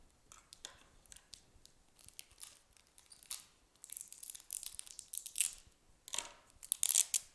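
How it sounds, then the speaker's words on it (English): Strips of tape are torn and pressed onto a shoe strap in a close, quiet workshop setting: scattered crinkly rips and sticky crackles, sparse at first, then denser bursts of tearing toward the end, with no speech. "So I'm going to tape my strap down"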